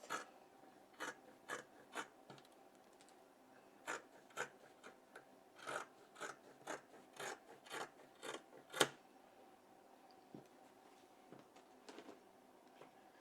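Scissors snipping through satin fabric for a bonnet, a steady run of crisp, close blade closures at a brisk rhythm with short pauses, then a few softer scattered snips near the end.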